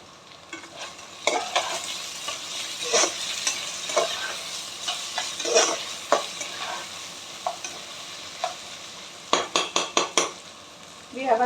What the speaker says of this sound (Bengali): দিয়ে আবার এটাকে একটু টস করে নিলাম।